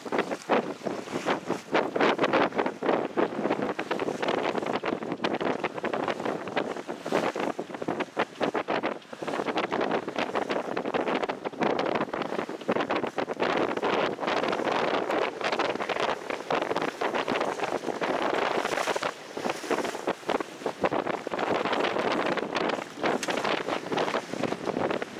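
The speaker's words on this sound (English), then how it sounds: "And here we are sailing past Treasure Island." A sailboat tacking to windward past Treasure Island on the way to the Golden Gate Bridge, with steady loud wind buffeting the microphone over rushing water throughout.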